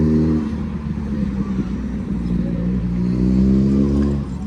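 Busy road traffic beside Blackpool beach rumbles steadily, with engines droning and swelling as vehicles pass nearby, forming a continuous low roar with no talk.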